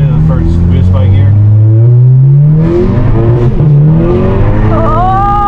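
A car fitted with a catback exhaust accelerates hard through its gears. The engine tone climbs loud and close, drops at each shift and climbs again, with voices over it.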